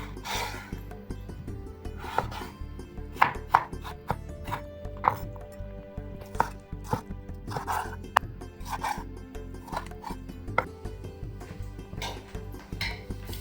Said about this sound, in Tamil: லாஸ்ட்டாக 2 மீடியம் சைஸ் டொமேட்டோ, இதையுமே சாப் பண்ணிடலாம்.